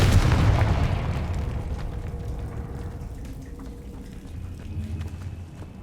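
A Confringo spell blast in Hogwarts Legacy goes off as one loud, booming burst at the start, then decays into a long rumbling tail with faint crackles and debris as it fades.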